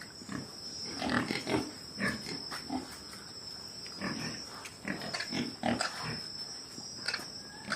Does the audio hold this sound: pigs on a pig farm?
yes